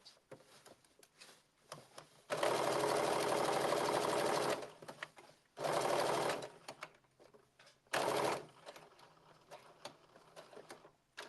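A sewing machine stitches a blazer seam at 5/8 of an inch in three loud, close bursts of steady whirring, the first longest. Quiet handling sounds fill the gaps between them.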